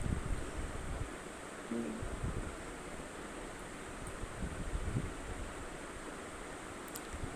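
Sea waves washing onto a beach in the evening, a steady broad rushing surf with wind buffeting the microphone, moderately loud and continuous, with no talking.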